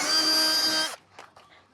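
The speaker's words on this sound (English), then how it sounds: "I love drilling holes into my car." A power drill runs loud and steady for about a second while boring a hole into the body of a VW Mk7.5 Sportwagon during a body kit install, then cuts off, leaving a few faint clicks and handling noises.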